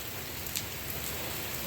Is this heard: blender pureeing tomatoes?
no